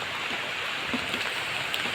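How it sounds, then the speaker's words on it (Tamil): Rain beginning to fall outdoors on a farm, a dense steady hiss of drops with scattered faint taps, continuous and moderately loud throughout the short stretch. "மழை வர ஆரம்பிச்சிச்சு."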